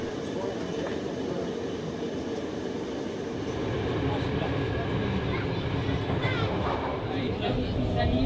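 A historic train, the MAT 46 unit on the Hoek van Holland line, rumbles and clatters steadily from inside or close by, wheels rattling over the track with a rising roar as it gathers pace.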